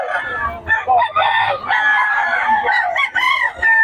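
Chickens cluck and squawk close by in a busy chorus at a market in Bocaue, with a rooster-like crow rising among them and low background noise.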